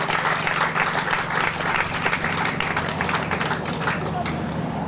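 Steady, dense applause from an audience at a press conference, sustained throughout with a babble of voices mixed in beneath the clapping.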